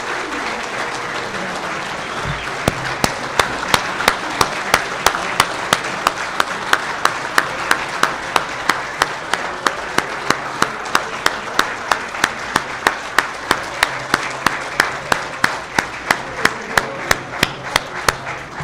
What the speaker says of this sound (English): give me one more round of applause for our incredible class of Long Beach City College